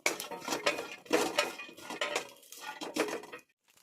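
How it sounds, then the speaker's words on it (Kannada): Cut coconut being fried in a pan on the stove: a metal spoon clinks and scrapes against the pan in quick repeated strokes, close and fairly quiet, ending in silence. "ಇದರೊಳಗೆ ಇವಾಗ ಕಟ್ ಮಾಡಿರೋಂಥ ಕಾಯಿ ಹಾಕ್ಕೊಳ್ಳೋಣ. ಲೈಟಾಗಿ ಎಲ್ಲನೂ ಹುರ್ಕೋಬೇಕು."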